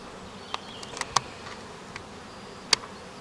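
Honeybees coming and going at the entrance of a weaker spring colony, with a few faint, brief buzzing passes over quiet background.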